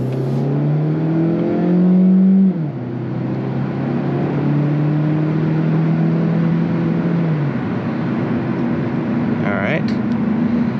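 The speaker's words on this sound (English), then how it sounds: "We'll go ahead and accelerate, and I'm going to put it to the floor right now." A 2024 Hyundai Elantra Hybrid revs hard under full-throttle acceleration, its drone rising steadily in pitch, dropping briefly, then climbing again, loud and close throughout.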